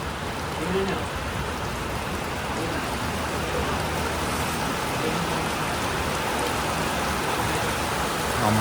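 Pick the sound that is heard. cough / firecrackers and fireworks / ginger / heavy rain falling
heavy rain falling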